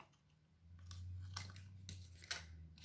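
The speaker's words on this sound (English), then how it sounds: "So what I could do actually is just snip this off" Scissors snip through paper in a few sharp, close cuts during a crafting project, with a low steady hum running underneath.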